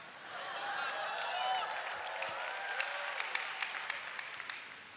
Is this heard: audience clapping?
yes